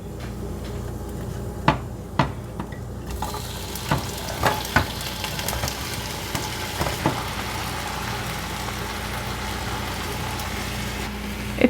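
Shrimp seasoned with cayenne, salt and pepper fry in a pan for tacos, a constant sizzle broken by scattered sharp clicks and taps of stirring, with no talk.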